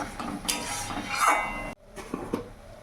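A spoon scrapes and clinks in a pan while stirring mashed banana stem paste, a close continuous scraping followed by a few light metallic knocks.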